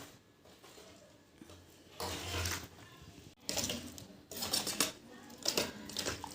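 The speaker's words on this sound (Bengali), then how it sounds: "এবার এটা একটু চামচে করে ভালো করে মিশিয়ে দিচ্ছি।" A spoon stirs grated coconut with pomegranate seeds in a bowl, giving soft intermittent scraping and clinking scrapes at close range in a quiet kitchen.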